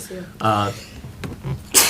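A single short sneeze bursts out near the end, amid voices in a high school board meeting.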